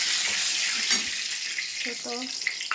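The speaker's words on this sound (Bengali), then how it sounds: "ছোটো এলাচ, লবঙ্গ, দারচিনি, তেজপাতা তেল দিয়েছি" Cardamom, cloves, cinnamon and bay leaf sizzle in hot oil in a home kitchen, a steady bright hiss running throughout with a few faint clinks and small sounds near the end.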